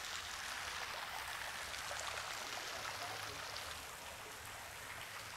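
Faint, steady rush of a waterfall cascading beside a stone walkway in a mansion garden in Guarujá, a continuous hiss of falling water with no breaks or voices.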